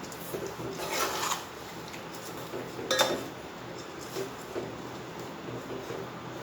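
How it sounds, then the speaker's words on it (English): Tomato sardine curry being mixed in a pan, with soft rubbing and scraping of a utensil against the metal and a sharp clink near the middle, fairly quiet and with no talking. "Again we'll mix."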